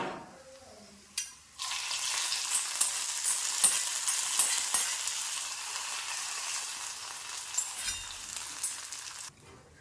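Fried tempering of shallots and dried red chillies poured into a cucumber pachadi curry: a knock, then a sudden loud sizzle that settles into steady crackling frying for several seconds before cutting off.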